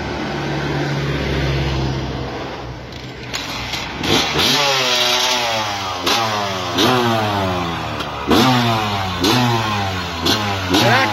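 A 2004 KTM 125 two-stroke motorcycle engine catches and revs repeatedly, its sharp, rising blips climbing in pitch and falling back in a steady rhythm, loud and close with no talking over it.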